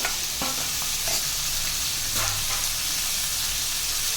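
Brinjal, drumstick and mango pieces sauté in oil with salt for South Indian sambar, giving a steady close sizzle and frying crackle with occasional stirring scrapes throughout.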